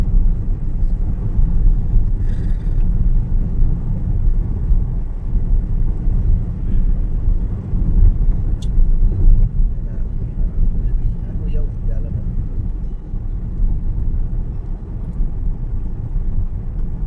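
A vehicle drives along with a steady, loud low engine rumble and road noise throughout, rising slightly as it accelerates, with wind buffeting at the microphone.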